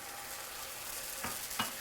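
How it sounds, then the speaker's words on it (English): Chicken sizzles steadily in a hot skillet with Italian dressing, a close crackling hiss with a couple of sharper scrapes of stirring. "You can hear that sizzle."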